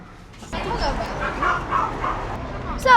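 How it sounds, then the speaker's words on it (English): Feisty dogs yelp and bark excitedly at a dog park outing, a busy overlapping chorus of close yips running throughout with people talking over it. "So the dogs are a little feisty when they first come out."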